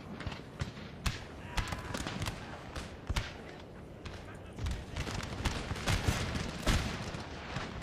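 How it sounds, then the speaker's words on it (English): Artillery barrage in Napoleon: Total War, a scattered series of cannon booms and thuds, some sharp and close, others distant, rolling on over a battlefield din while someone talks intermittently. "Let's get a little bit of a barrage of artillery on those gits."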